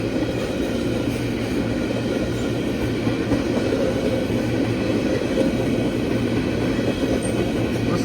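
Freight train tank cars, looking like new tankers, roll steadily past on the rails with a continuous, loud, even rumble and faint clatter, no voices heard.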